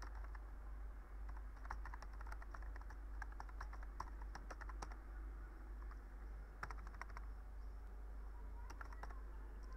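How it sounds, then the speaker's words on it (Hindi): Fingers tap out an email address on a computer keyboard while confirming WhatsApp two-step verification: scattered, fairly quiet keystroke clicks in irregular bursts over a steady low hum, with no talking. "आपने अपनी ईमेल को जो है वो दोबारा आपने टाइप करना है।"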